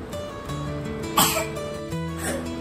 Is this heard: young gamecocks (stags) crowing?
no